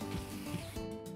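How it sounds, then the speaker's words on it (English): Dried chiles de arbol are stirred and toasted in a pan, making soft, close scraping and rustling sounds with faint sizzling, all at low volume. "What you wanna do is stir them constantly."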